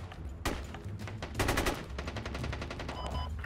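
Gunfire in the military shooter game Squad: rapid automatic bursts and single rifle shots crackle in quick succession, loud and dense with echoing reports throughout.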